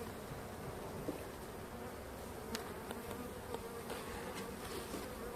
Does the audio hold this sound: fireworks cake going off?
no